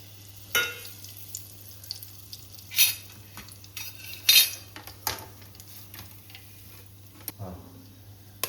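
Spice masala frying and being stirred in a pan for chicken gravy, with a quiet sizzle under sharp metallic scrapes and clinks of a spoon against the pan coming in irregular bursts, close by and without talk.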